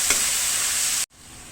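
Potatoes sizzle and get stirred in a hot pan, a steady loud frying hiss that cuts off abruptly near the end and returns quieter.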